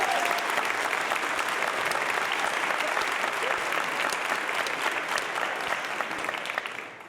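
Sustained, dense applause from a large audience at a college convocation ceremony, honoring a long-serving professor; steady clapping throughout, tapering slightly at the end, with no talk over it.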